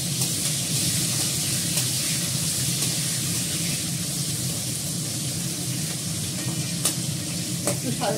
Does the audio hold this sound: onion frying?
yes